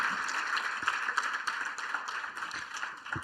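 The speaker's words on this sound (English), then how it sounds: "Can we give him another round of applause?" Audience applause at a parent-educator forum, a steady wash of many hands clapping at moderate distance, continuing evenly for a few seconds.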